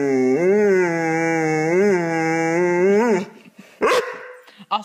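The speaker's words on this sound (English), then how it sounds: "Don't bark at me." A dog gives a long, drawn-out, tonal howl-like vocalization lasting about three seconds, close and loud, followed by a couple of short sharp noises.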